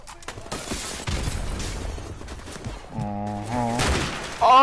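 Video game gunfire crackles in scattered bursts and booms, with crashing impacts and a rising synthetic tone near the end, fairly close and loud, mixed with brief vocal sounds.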